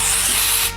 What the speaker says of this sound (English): if you don't like the shiny of your synthetic wig, you can use some dry shampoo